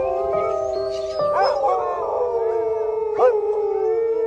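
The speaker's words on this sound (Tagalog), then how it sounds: "Parang nagkaisa ang lahat ng aso sa baryo sa pag-alulong." Several village dogs howl together in long, wavering cries that overlap and rise and fall, with a short yip breaking in near the end; no one speaks.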